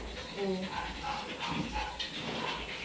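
A dog whimpers and gives short yips close by, mixed with voices talking over it in a rural home setting.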